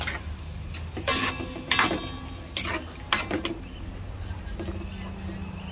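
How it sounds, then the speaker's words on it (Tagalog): A utensil scrapes and clinks against a pan in several uneven strokes, stirring tofu with oyster sauce, with a faint sizzle underneath and a voice speaking briefly in Filipino. "Mix lang po natin."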